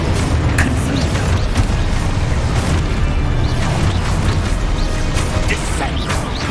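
Confringo fire blast spell explosions in the Hogwarts Legacy video game, booming bursts that repeat in quick succession over a dense, loud, continuous wash of game effects and music.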